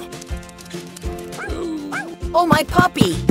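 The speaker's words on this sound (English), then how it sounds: "It's puppy barking." A puppy barking in the Roblox game Brookhaven, a few yappy barks and whimpers at close range, mixed with background game music and a cartoonish voice.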